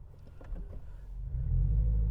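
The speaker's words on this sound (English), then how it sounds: "this is a noisy ass car compared to anything else" A noisy car engine rumbles at low pitch while driving with a manual gearbox, rising and swelling louder toward the end as it accelerates, heard from inside the cabin without talk.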